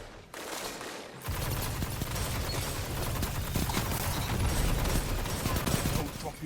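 Heavy machine gun fire in the video game Destiny 2, a sustained, steady stream of rapid shots that starts abruptly after a brief lull and holds at a fairly even level.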